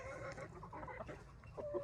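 Chickens cluck and squabble while fighting over a piece of cucumber, a close, busy flurry of short overlapping clucks and squawks from several birds.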